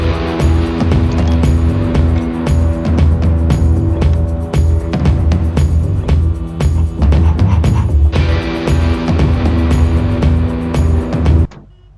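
Cars rush along a highway in a mobile video game, a dense, continuous motor drone with repeated passing whooshes and a brief break midway, loud and steady until it cuts off at the end.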